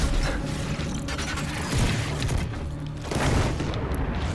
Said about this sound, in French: Là je prépare mon shotgun